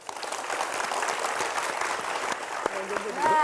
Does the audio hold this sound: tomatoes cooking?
no